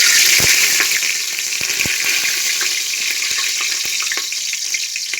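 Bay leaves dropped into hot oil for vegetable bath, a loud, dense crackling sizzle close up, with scattered sharp pops and occasional clicks of a utensil over the steady frying.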